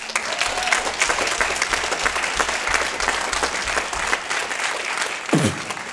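Audience applause for the winners of a 2021 pitch competition: a dense, continuous clapping from a crowd, loud and sustained throughout, with a brief low thump near the end.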